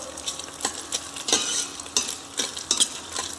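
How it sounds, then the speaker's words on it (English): Brown sauce being stirred in a pan, spoon scraping the bottom in quick repeated strokes over a gentle sizzle, close and steady. "Keep stirring so"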